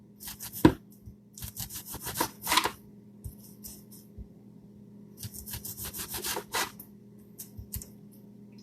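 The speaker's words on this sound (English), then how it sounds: "Okay, slice of the tomato." Knife slicing a tomato for a turkey sandwich, a series of soft close scraping cuts and board taps, quiet and irregular, with no talking.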